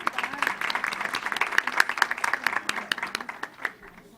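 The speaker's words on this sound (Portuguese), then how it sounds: "Uma salva de palmas." An audience at an autism accessibility forum debate applauds a panel guest, a moderately sized crowd clapping in quick, crisp overlapping claps that hold steady for several seconds before tapering off.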